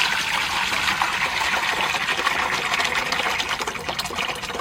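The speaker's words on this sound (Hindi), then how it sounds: "बाल्टी में पानी भर देंगे" Water pours and gushes steadily into a bucket holding jamun fruit, a loud continuous splashing fill heard up close with no voices.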